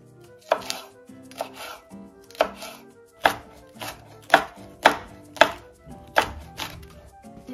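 A knife chops bell pepper and onion on a board for pico de gallo and guacamole, giving about ten crisp, evenly spaced strikes that grow sharper and louder toward the end, with no talking.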